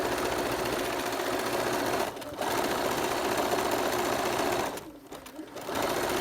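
A sewing machine stitches a rope bowl in a fast, loud, continuous whirring run, broken by two brief pauses before it starts again.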